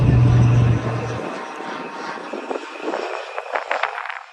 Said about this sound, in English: we stood out on it to watch the helicopter arrive and it hovered right above our heads.